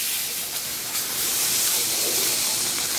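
Food sears on a hot griddle right after being flipped, giving a steady, loud hiss that holds evenly throughout with no break.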